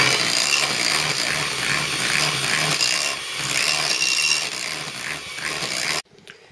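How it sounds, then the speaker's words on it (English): Shortbread biscuit batter is whisked until thick and creamy, a loud, steady mechanical whirring close by that runs continuously and then cuts off abruptly near the end. "Keep whisking until it becomes thick and creamy."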